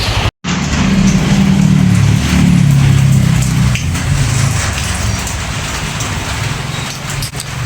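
Steady, dense patter of rain falling on a surface, continuous and fairly loud throughout, with a brief dropout near the start.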